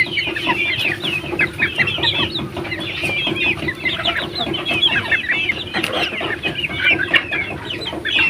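A flock of chickens clucks loudly and continuously at close range on a small poultry farm, the dense overlapping calls running without a break.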